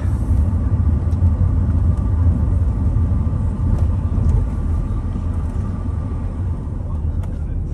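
Alfa Romeo 156 2.4 JTDM 20v multijet diesel engine heard from inside the car while driving on a road: a steady low rumble and drone that stays even throughout, with faint ticks and no talk.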